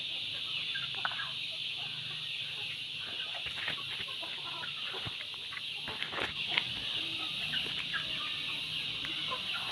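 Chickens squabble and cluck in scattered bursts over a constant high insect-like drone. The birds sound faint to moderate and somewhat distant, with no clear speech.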